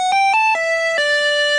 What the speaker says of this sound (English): I could have just left it like that, like one flat note,